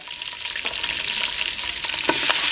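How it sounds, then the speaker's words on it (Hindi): Ginger-garlic paste fries in a hot pan for a beef rosh, a dense, continuous crackling sizzle heard up close with a few sharper pops and spatters. "1 चम्मच अदरक और लहसुन का पेस्ट डालेंगे, 1 मिनट के लिए इसको फ्राई करेंगे।"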